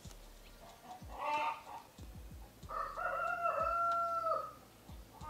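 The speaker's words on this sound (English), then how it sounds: "Chicken is laying an egg, so she's screaming, and the rooster is warning everyone he owns that territory." Rooster crowing in a Ukrainian village, with a hen cackling loudly after laying an egg; sharp squawks come first, then a long drawn-out crow, all close by over steady rural background noise.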